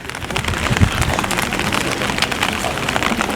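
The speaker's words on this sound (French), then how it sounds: "nous filmons en plein pluie" Rain falls steadily during outdoor filming at a funeral gathering in Valence, a dense crackling patter on surfaces with a few louder drops near the start, continuous and fairly close.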